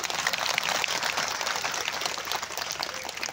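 Audience at an Islamic sermon gathering in a village home in Wonorejo, South Kalimantan, claps for a visiting police officer; dense, steady clapping fills the space at moderate loudness without a clear end.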